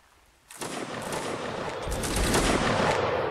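Musket volley in Mount & Blade Warband Napoleonic Wars, a sudden crackling fusillade of many overlapping shots that starts abruptly after a quiet moment and builds into a sustained, dense roar.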